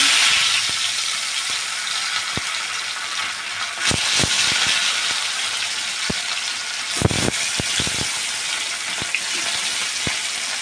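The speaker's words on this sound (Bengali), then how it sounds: "তো মাছগুলো দিয়ে দিলাম। এবার মাছগুলো ভাজা হবে, একেবারে লাল লাল করে ভেজে নিতে হবে" River fish fry in hot oil in a wok with a loud, steady sizzle and crackle, interrupted by several sharp knocks and scrapes of a utensil, close and continuous with no talking.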